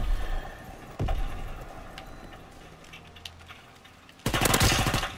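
Call of Duty WW2 team deathmatch: a sharp single shot, then scattered faint distant shots, and near the end a loud close burst of automatic gunfire.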